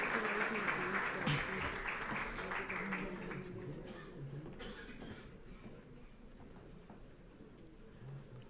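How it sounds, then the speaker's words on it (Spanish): Faint, fading applause from an audience at a parliamentary working session honoring a senator, a soft wash of clapping that tapers off over several seconds with a few distant sounds. "Demos un fuerte aplauso a la senadora Arely Gómez González"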